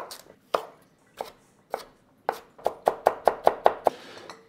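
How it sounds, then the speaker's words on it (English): A knife chops peeled carrots into matchstick pieces on a board, with spaced single cuts that speed up into a quick run of crisp, close taps. "So peel them and cut them up into like matchstick sized pieces"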